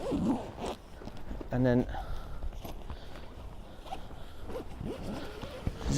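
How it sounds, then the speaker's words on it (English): A zipper pulls closed on a Coleman Fast Pitch Air Valdes 6XL tent, a short rasping run heard close amid rustling fabric, with someone talking throughout. "zip it all back in"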